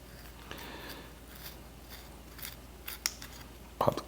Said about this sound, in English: Put a little cut in the back of the tomato, on the end of the tomato